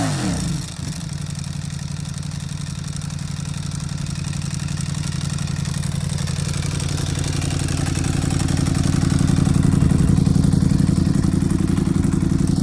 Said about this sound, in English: let's start it up so we can hear the exhaust.